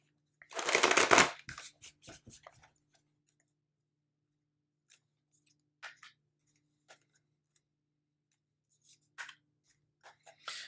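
Oracle cards shuffled once in a short, close riffle burst, followed by faint scattered taps and card handling in near silence.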